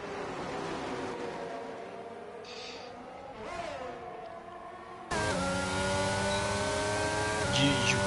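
Racing cars scream around the Abu Dhabi circuit in a racing video game, one closely trailing a Ferrari. Engine tones rise and fall steadily, then a louder, denser engine note cuts in partway through.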